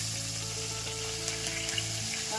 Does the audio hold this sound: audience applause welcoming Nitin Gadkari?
no